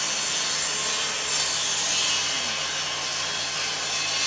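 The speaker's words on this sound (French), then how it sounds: "La scie est beaucoup plus forte que moi." Saw cutting through wood, a steady loud hissing rasp that runs continuously and close up, with no voices over it.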